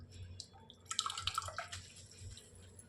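Water draining from boiled Hakka noodles in a strainer, a faint trickle and scattered drips with a brief clatter of the noodles being shaken, quiet and close.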